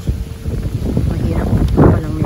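Steady wind buffeting a microphone outdoors while fishing in Valenzuela, a low rumbling roar that swells near the end.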